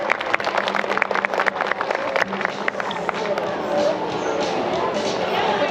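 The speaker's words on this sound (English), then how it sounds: "let's give her a round of applause" Crowd clapping in a burst of applause at the close of a sea lion show, sharp hand claps thinning out into a softer murmur of audience noise.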